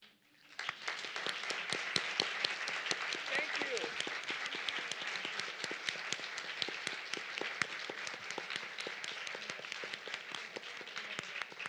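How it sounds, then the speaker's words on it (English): Audience applause after a poetry reading, a dense sustained clapping from a crowd that starts abruptly and holds steady for many seconds, with some voices mixed in. "Let's get one more round of applause."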